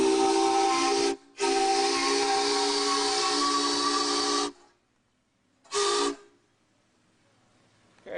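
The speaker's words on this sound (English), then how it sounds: "You also have a cable here that hooks up to a steam whistle." A steam whistle on a 1909 Stanley Mountain Wagon blows loud, sustained and hissing, briefly broken near the start, then cuts off, followed by one short final toot after a pause.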